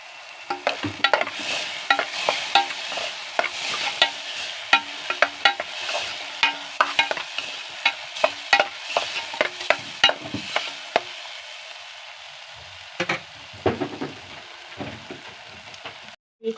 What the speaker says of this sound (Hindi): ओकर बाद हमने एला चम्मच चलाबो